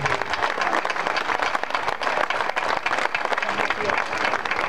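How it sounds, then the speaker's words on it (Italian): Dense applause from a crowd at a Sardinian dance event fills the whole stretch, steady and loud with no breaks. "Farei un grosso applauso davvero."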